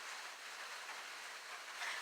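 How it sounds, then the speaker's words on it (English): Steady rain falls outside beside a covered porch, a constant even hiss of drops with no gaps, moderately loud and close, with no voices. "I think it's raining."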